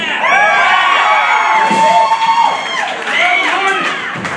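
A concert crowd screams and cheers continuously, loud and dense, with high shrieks and whoops layered over a roaring wash of voices.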